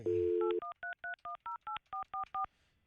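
Telephone keypad tones ring out as a call is placed, a short steady tone first and then about ten evenly spaced dual-tone beeps in quick rhythm, clear and close with no one talking.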